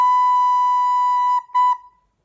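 A recorder plays a sustained, pure note for over a second, then a short second tongued note on the same pitch, clear and close with no talking.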